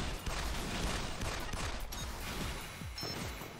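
Missiles fire in the video game Assault Gunners as a dense, continuous barrage of blasts and booms rumbles along at a steady, moderately loud level, with no pauses between volleys.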